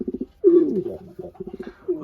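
Pigeons cooing in a coop, close and fairly loud, with repeated soft pulsing coos and a longer throaty call in an uneven rhythm and no talking.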